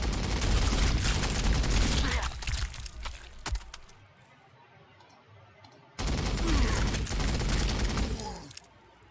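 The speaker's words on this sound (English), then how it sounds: "Firing everything we have." Punisher tank gunfire in Warhammer 40,000: Sanctus Reach, dense rapid automatic bursts in two loud stretches separated by a quieter lull, with no talking.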